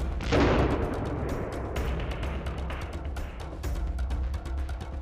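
About 5 g of sodium metal dropped into a water tank bursts in a loud, sharp blast near the start, followed by several seconds of crackling, fizzing turbulence and scattered pops.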